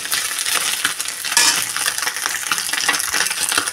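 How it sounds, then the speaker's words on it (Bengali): Small chuno fish fry crisp in hot oil in a pan, a loud, steady crackling sizzle with occasional scraping and clinking from stirring, and no voices. "মচমচে করে আমি ভালো করে ভেজে দেবো মাছগুলোকে"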